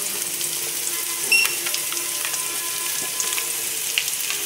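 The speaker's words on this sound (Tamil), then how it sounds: "நல்லா ஃப்ரை பண்ணிக்கோங்க" Spices including garam masala and chilli powder fry for cauliflower manchurian in a pan, giving a continuous close sizzle with faint crackles and occasional light stirring scrapes.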